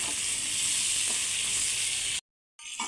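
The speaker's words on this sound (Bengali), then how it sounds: "একটু ভালো করে লাল লাল করে আলুগুলোকে ভেজে নেব" Potato pieces frying in oil until reddish-brown, a loud continuous sizzle close by that cuts out abruptly near the end before resuming.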